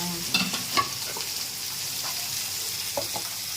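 Tempering for mango pickle frying in a pan, a steady soft sizzle with a few light scrapes and taps of a spoon stirring, close and fairly quiet, with no talking.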